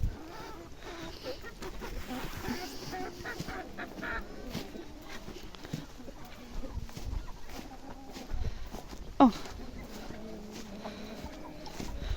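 Chickens loose in a muddy, waterlogged village yard in rural Ukraine cluck and call steadily at a moderate distance, with a brief louder squawk near the end and a faint background of other fowl.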